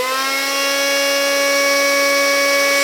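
A Tekin G3 brushless motor spins steadily at full speed, giving a loud, sustained high-pitched electric whine with layered tonal harmonics and no talking.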